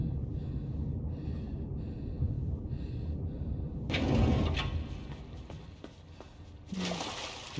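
In the video game Inside, water drains away after a red button is pressed, a muffled rushing and gurgling that shifts into brighter sloshing and trickling with a few splashes, moderately loud and without talk.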